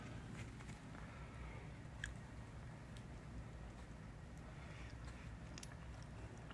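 Someone chews food together with chestnuts during a food trip in Busan. The eating is faint and close, with soft bites and scattered small crunches over a low room hum, and no talk.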